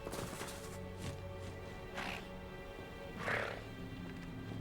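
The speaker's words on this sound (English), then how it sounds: "Oh, look, it's a horsey." A horse in the video game Hogwarts Legacy, giving several short neighs and snorts in bursts over soft hoof clip-clop and quiet game ambience.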